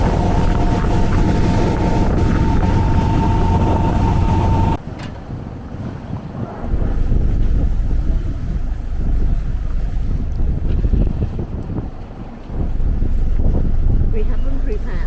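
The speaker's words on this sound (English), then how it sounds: "Woo, windy." Strong wind buffets the microphone aboard a sailboat under way off Trieste, a steady loud roar with rushing water beneath, dipping briefly twice before gusting back up.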